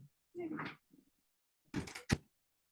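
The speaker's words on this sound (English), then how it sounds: "Let me just close my door." A door in a home is pushed shut with one sharp, close thunk, preceded by brief rustling and shuffling movement; a voice is briefly heard earlier.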